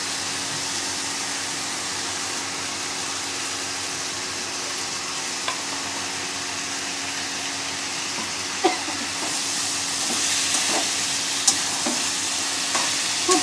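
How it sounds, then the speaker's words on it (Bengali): Fish curry spices sautéed and stirred in oil for a Bengali parshe fish jhol, giving a steady, fairly quiet sizzle with a few faint scrapes and clinks of stirring near the end. "আমি ভালো করে কষাচ্ছি। আমার মনে হচ্ছে একটু তেলের প্রয়োজন, আমি একটু দিলাম তেল ঘুরিয়ে।"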